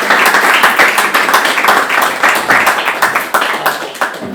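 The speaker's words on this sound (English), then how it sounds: "maybe if we can give these guys a round of applause" An audience claps steadily and loudly for a few seconds, with dense, close, even applause at a housing and community event.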